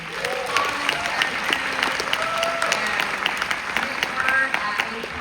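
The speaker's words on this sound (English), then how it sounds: "So again, round of applause for everybody at Boston Light and Sound." Audience at a classic film festival screening claps in a sustained round of applause, a dense even patter with a few whoops and voices mixed in beneath.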